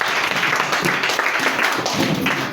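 A church congregation claps and applauds in praise, a dense, continuous patter of many hands filling the room, with voices mixed faintly underneath.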